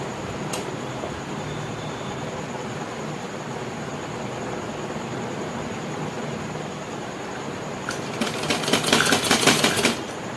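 Sewing machine stitching a sleeve, a faint background hum that gives way near the end to a rapid, louder mechanical clatter of stitching lasting about two seconds.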